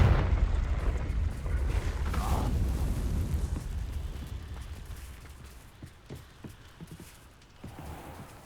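A Confringo blasting spell in Hogwarts Legacy explodes with a loud, rumbling boom that decays slowly into debris rattles and scattered crackles.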